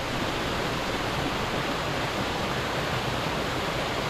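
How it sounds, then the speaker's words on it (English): A big waterfall in Whitney Canyon pours in a close, steady, full roar of rushing water that never lets up. "That's the first big waterfall."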